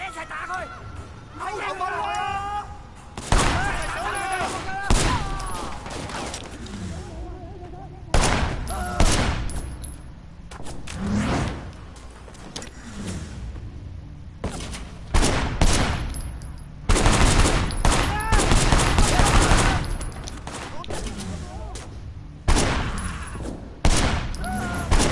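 Repeated gunfire bursts and rapid automatic volleys from a shootout in the video game Sleeping Dogs, loud and close, with talk running over and between the shots.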